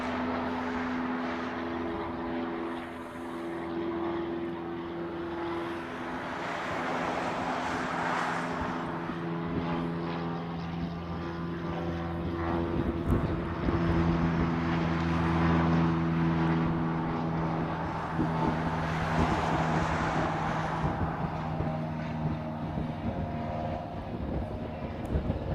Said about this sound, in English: KC-130J Super Hercules.